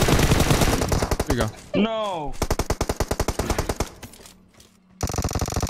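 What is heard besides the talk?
gunfire in a video game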